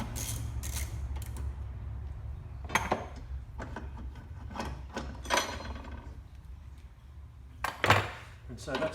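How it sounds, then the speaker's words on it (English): Metal clanks and clicks from a battery hold-down bracket being unbolted and lifted out of a Porsche 981, with several sharp knocks over a steady low hum, loudest near the end. "I'll remove the lug or the bracket, actually remove it out"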